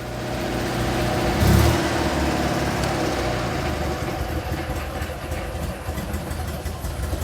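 Invacar engine idling soon after its first start-up in a while: steady, loud, close droning and chugging with a constant low rumble, no talking.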